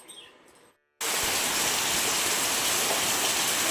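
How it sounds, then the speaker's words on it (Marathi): Steady evening rain begins suddenly after a brief silence, a loud, continuous wash of falling water that stays dense and even throughout, with no voices over it. "संध्याकाळच्या वेळेस पावसाला सुरुवात झाली"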